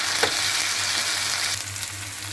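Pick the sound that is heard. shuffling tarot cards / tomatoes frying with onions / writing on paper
tomatoes frying with onions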